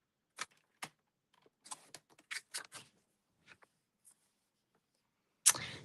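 Thick white cardstock being cut for a card base, heard as a series of short, crisp slicing and tapping clicks spaced irregularly, close and quiet, ending with a louder scrape.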